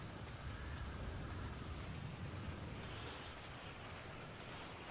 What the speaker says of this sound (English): Getting rain all over my new shoes.